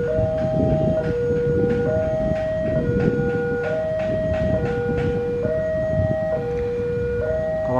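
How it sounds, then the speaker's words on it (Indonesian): A loud two-tone alternating siren or horn repeats steadily as a train departs Cirebon Kejaksaan station, over rumbling train and station noise, close by and continuous. "ada kereta api persiapan berangkat dari stasiun Cirebon Kejaksaan"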